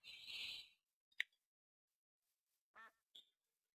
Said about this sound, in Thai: หมูไก่เห็ดเป็ดอะไรแถวนี้เยอะแยะ